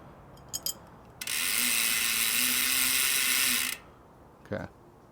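A fast, steady ratcheting whir of about two and a half seconds as loose cranks on a BMX bike are tightened, with a few quieter clicks and knocks before and after it.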